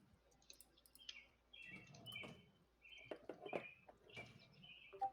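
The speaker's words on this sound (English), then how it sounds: "At least we have these birds to listen to." Birds chirp and tweet in the background in short, scattered calls, fairly faint and spread through the clip, with no talk over them.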